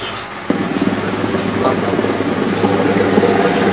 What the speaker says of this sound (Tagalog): Ayan po siya, naka-helicopter